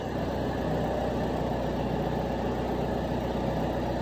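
A John Deere 6320 tractor with a replaced injection pump idles steadily after starting, its four-cylinder diesel giving a constant low rumble with no voices.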